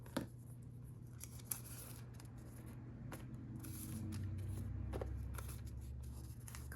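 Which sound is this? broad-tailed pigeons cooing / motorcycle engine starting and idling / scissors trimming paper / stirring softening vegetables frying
scissors trimming paper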